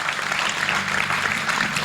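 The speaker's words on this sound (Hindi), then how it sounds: "एक बार जोरदार तालियां बजाकर मुझे बताएं" A mehfil poetry audience claps after a nazm recital, a steady wash of many hands at moderate loudness continuing without pause.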